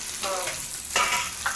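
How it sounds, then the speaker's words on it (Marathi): Parrotfish roe fries in oil with a close sizzling hiss that swells in a few short bursts as it is turned in the pan. "आईने टाकला तेल हे अंडा आता फ्राय करणार आहे"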